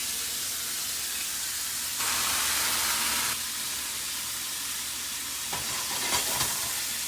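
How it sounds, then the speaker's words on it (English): Asparagus steams in lemon juice in a hot pan, giving a steady broad sizzle and hiss that surges briefly loud around two seconds and flickers with small crackles near the end, with no talking. "Just kind of steam it in that lemon juice."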